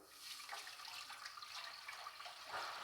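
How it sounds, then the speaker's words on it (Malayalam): Water pours into a pot of whole spices and bay leaves for chicken dum biryani, a steady splashing gush heard faintly and close, with no talk. "3 കപ്പ് വെള്ളം നമ്മളിവിടെ ഒഴിച്ചു കൊടുക്കുകയാണ്."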